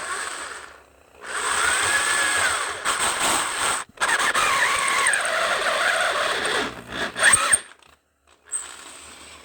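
A freshly hand-sharpened drill bit runs in steady whirring bursts with brief stops and restarts, loud and close, with a high squealing edge as it cuts.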